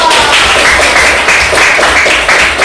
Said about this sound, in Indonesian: Oke, tepuk tangan dong.